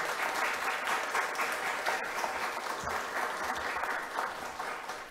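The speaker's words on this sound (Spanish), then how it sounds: "Me voy a permitir pedir un fuerte aplauso para los estudiantes que nos han acompañado." Strong, steady applause from an audience honoring the students who attended a university observatory event, dense clapping sustained throughout without a break.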